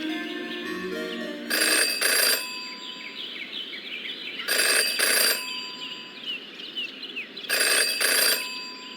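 Telephone ringing in the Jenny LeClue game: three evenly spaced bursts of a bright double ring over a steady background of chirping ambience, with no voices.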